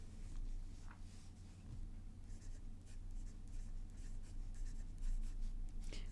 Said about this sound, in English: So it really is like writing with like a Sharpie or just like the fattest nib.